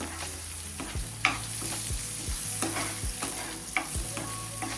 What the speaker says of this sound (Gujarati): સારી રીતે મસાલા મિક્સ કરી લેશું